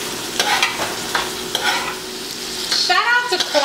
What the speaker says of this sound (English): I'm going to stir it in.